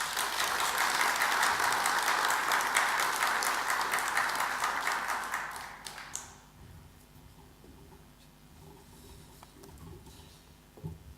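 An audience applauds to welcome a speaker to the stage at an architecture symposium. The clapping is dense and sustained for about six seconds, then fades to scattered claps and quiet room noise.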